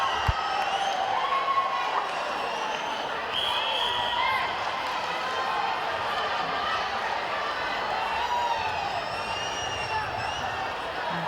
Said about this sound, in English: Cheers the crowd.